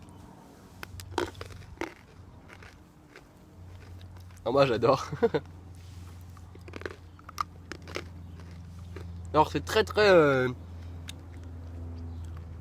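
Hard Pokémon candy bars are bitten and chewed close to the mic in two loud crunchy bursts, with crackling mastication heard between bouts of French conversation from a couple.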